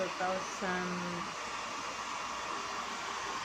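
An older hair dryer blows with a steady, hissy whir, heard indoors. A person speaks over it at first, then the even airflow noise continues alone.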